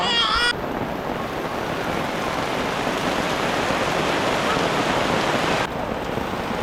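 Heavy rain drums on a campsite tent at Ajin Campsite, a dense, loud and steady downpour that runs unbroken from start to finish with only a brief higher tone at the very beginning.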